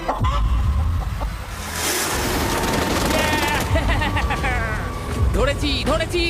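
A chicken caught on a deserted island clucks in short repeated bursts amid rustling and commotion, with people talking loudly over it.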